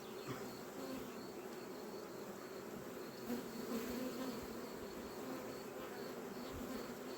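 Honeybees hum at a busy hive in a dense, steady buzz that fills the whole stretch without a break, close and even in loudness.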